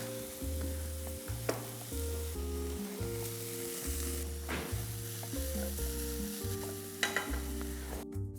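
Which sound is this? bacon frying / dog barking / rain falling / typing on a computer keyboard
bacon frying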